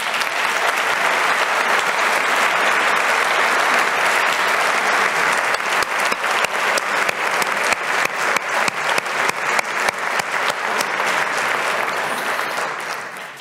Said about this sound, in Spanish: Y querría dedicarles, si os parece bien, un fuerte aplauso porque muchos de ellos están aquí y se lo merecen